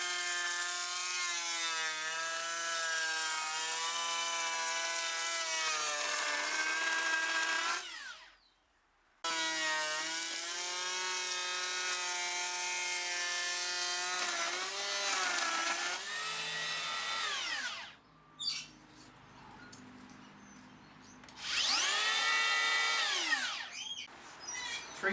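A Makita 40V cordless planer whines at high pitch while cutting wood, its tone sagging and dropping as the chips clog it, with several stops and restarts across repeated passes.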